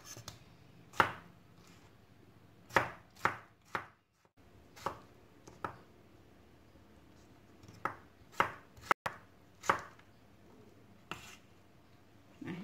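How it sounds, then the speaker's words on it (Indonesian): Knife chopping tomato into small pieces on a cutting board while preparing Minang-style pepes ikan peda, a series of crisp, close, irregular chops with short pauses between bursts. "Kemudian kita potong lagi ini tomat. Ini potong kecil aja."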